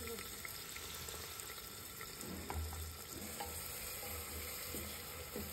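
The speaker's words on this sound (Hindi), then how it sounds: "ऑयल होने के बाद डालेंगे जीरा, जीरा के बाद डालेंगे प्याज जो मैंने काटे थे।" Cumin and chopped onion fry in hot oil inside a pressure cooker, giving a soft, continuous sizzle with occasional stirring scrapes and clinks, quiet and close throughout.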